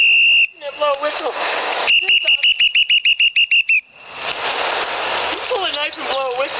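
A whistle shrieks in one long blast, then a rapid string of short sharp blasts, during a heated confrontation at a San Diego VA facility, with loud shouting voices before and after.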